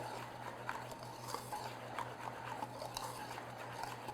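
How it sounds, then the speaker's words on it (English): Whisk stirring dry scone ingredients in a bowl for bacon and cheese scones, a steady soft scraping swirl with faint light clinks against the bowl, close and continuous, with a low steady hum underneath. "So then I'm just going to take a whisk."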